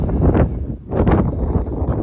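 Wind gusting across an open beach on the Isle of Colonsay, buffeting the microphone in loud rushing bursts with a short lull in the middle.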